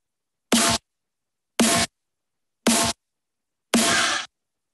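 Four separate snare hits with soft clipping applied, each a short bright burst with a quick decay, evenly spaced and isolated against silence; the final hit rings slightly longer and fuller than the first three.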